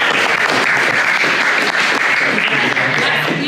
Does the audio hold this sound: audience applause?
yes